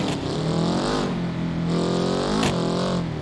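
A race car in a racing video game spins its wheels off the start line, the engine screaming and revving up and down loudly in a continuous, close drone with a brief stutter at a gear change.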